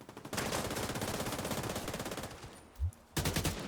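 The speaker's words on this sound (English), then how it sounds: "But still some shooting going on." Rapid automatic gunfire rattles in a video game, sustained bursts of machine-gun fire with a brief pause before firing resumes, and no talking.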